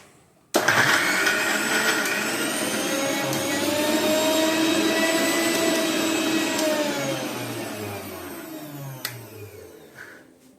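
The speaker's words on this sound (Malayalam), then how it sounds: "അങ്ങനെ എല്ലാം കൂടെ സെറ്റാക്കിയതിന് ശേഷം അടിച്ചെടുക്കുക." An electric mixer-grinder blends coconut, chili, garlic, turmeric, cumin and curry leaves into a paste, starting abruptly with a loud whirring roar that holds steady for about eight seconds, then winds down and stops.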